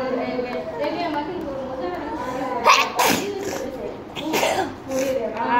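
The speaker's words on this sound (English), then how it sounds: "I'm sneezing." A couple of sharp sneezes burst out amid a child's chatter and background voices, fairly close and loud.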